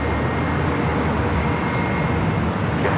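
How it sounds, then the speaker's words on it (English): An Alaska Airlines jet going around at LAX gives a loud, steady broadband engine roar that fills the whole stretch without letup, heard from a distance outdoors. "So that Alaska flight went around."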